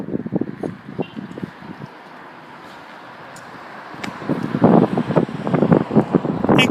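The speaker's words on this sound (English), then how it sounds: "It's going to be a very windy day in Sydney, Nova Scotia on Thursday" Strong gusty wind blows in Sydney, Nova Scotia, buffeting the microphone with rough low rumbles. The gusts come in bursts, ease briefly in the middle, and then build again louder.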